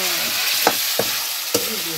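Chicken masala and cumin fry in a hot pan, a constant loud sizzle broken by three or four quick stirring scrapes.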